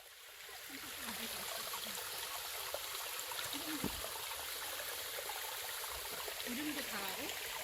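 A lively valley stream flows steadily, its soft, continuous water rush joined by faint trickles and small splashes throughout, fairly quiet and with no talking.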